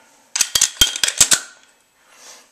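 A RAP4 clear 18-round paintball magazine is shaken, giving a quick burst of sharp plastic rattles and clicks, then a faint softer shuffle afterward.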